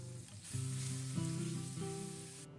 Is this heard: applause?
no